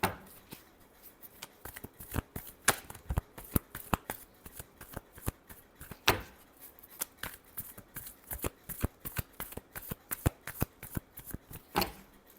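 Tarot cards are shuffled by hand in a steady run of crisp riffling bursts and flicks, close and alone with no talking, repeating many times over the stretch.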